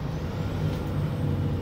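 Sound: Scania lorry climbing hill on Exmoor, air brake

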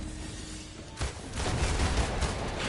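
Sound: flamethrower attack in Marvel's Avengers video game

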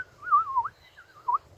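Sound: toy whistle imitating a bird call

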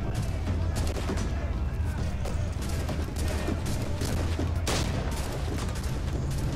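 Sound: guns firing in the video game Assassin's Creed IV

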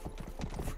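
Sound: horse hooves clip-clopping in video game Rustler

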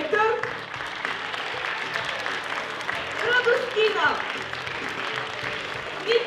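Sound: audience applause for performers

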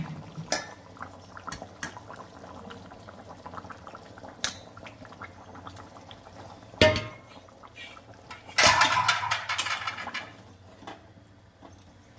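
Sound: putting a lid on the cooking pot

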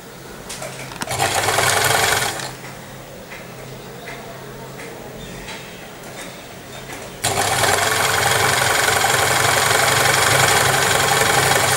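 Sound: sewing machine stitching salwar waistband

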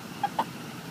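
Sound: chickens clucking

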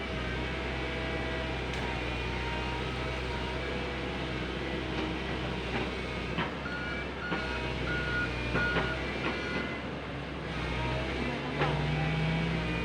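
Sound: Komatsu PC130 excavator reversing beeps

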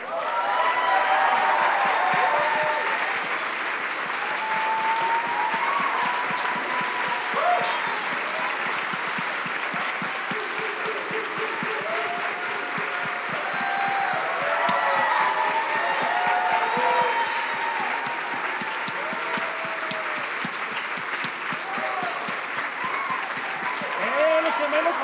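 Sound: applause for the Cinema Fantasma team

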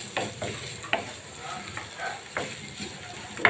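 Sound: potato filling for singara being stirred and dried in pan

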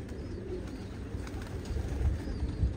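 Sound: young bird cooing on a balcony

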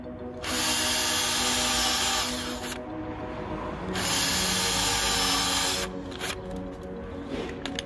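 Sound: power drill drilling holes in soft car trim material

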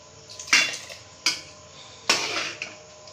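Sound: stirring washed gobindobhog rice in a pot and covering it

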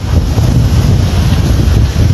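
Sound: strong wind blowing into the microphone

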